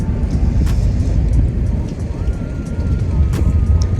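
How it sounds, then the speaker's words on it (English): Strong wind buffeting the microphone on a San Diego fishing spot, a loud continuous rumble with a faint urban street and traffic hum behind it. "wind is brutal, isn't it? And the noise of the street."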